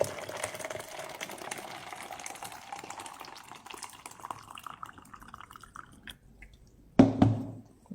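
Boiling hot water in a jar with a phone placed in it, a faint bubbling and dripping hiss that fades out, then a brief louder splash or clatter near the end.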